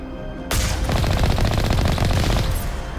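Sustained rapid gunfire from Mass Effect bursts in suddenly and rattles on loud and dense for about two seconds before easing off, with no talk over it.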